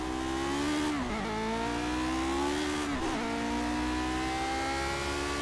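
Lotus 49 race car in Project Cars, its engine revving hard and steady with two sharp dips where the driver shifts gears, loud and close throughout with no talking.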